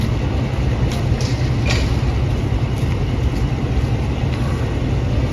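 Awam Express train at Rawalpindi railway station, a loud continuous low rumble of rolling rail cars with a steady high whine on top, close and unbroken throughout, with no talking.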